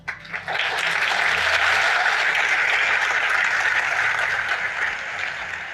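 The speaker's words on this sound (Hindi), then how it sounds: "अब जब मैंने ये बोला आपने तालियां बजाई" Loud, sustained audience clapping filling the room, starting with a couple of scattered claps before swelling into dense, even applause that slowly eases toward the end.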